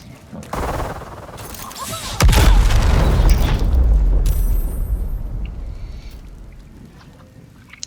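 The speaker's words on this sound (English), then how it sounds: "why don't we throw an alchemist fire at him?" An alchemist's fire flask bursts in Baldur's Gate 3 at a goblin camp, a loud, deep boom followed by a roaring, crackling fire rush that slowly fades.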